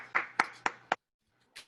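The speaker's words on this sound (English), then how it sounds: "Let's clap for the speaker." Applause for a speaker after an online mathematics talk, just four quick, sharp claps close to the microphone, then silence and one last faint clap.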